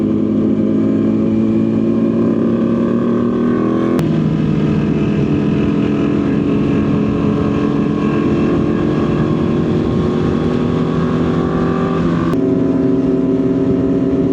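A Ducati Panigale motorcycle engine drones loud and close while riding, holding a steady high-revving roar with slight pitch shifts as gears change, and wind rush underneath.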